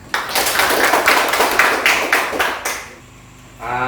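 Students in a classroom clap together in a pulsing, rhythmic pattern of loud bursts for a few seconds, then stop and a voice begins speaking.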